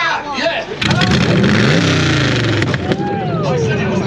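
A loud screamer-pipe motorcycle-style exhaust revs and roars up close at a hot rod and car show, the engine note climbing and falling while people talk over it.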